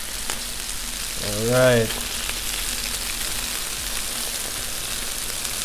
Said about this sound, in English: Want to get these pieces touching the griddle, get a nice fry on them